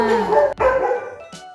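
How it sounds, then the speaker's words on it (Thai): Dogs bark and howl during a nighttime power outage, giving a loud, drawn-out, tonal cry that breaks off briefly and resumes before fading, with a short faint yelp at the end. "ตอนนี้ไฟมันดับปะเนาะหมาก็เห่านะคะ หมาจะเห่า จะหอนกันตามกันไปหมดเลยนะคะ"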